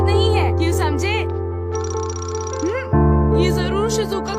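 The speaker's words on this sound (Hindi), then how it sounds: "ये जरूर शिजुका का फोन होगा।" A telephone rings in a Doraemon cartoon, a trilling electronic bell heard midway through over background music, with cartoon voices speaking before and after it.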